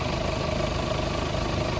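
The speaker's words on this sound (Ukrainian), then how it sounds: "Дуже гарна рівна робота двигуна" A 2015 Skoda Octavia 4x4 with a 2.0 diesel engine idles under the open hood, a steady, even low rumble with fine mechanical clatter, heard close and continuously with no talk.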